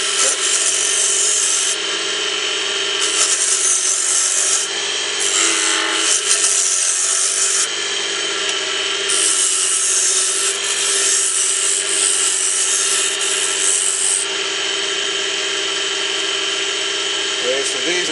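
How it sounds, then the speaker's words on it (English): Wood lathe with a gouge cutting a rough-sawn wooden napkin ring, giving a continuous hissing, scraping drone that swells and eases as the cut deepens. "start the bevel rubbing and then rotate the gouge until it starts to take a cut"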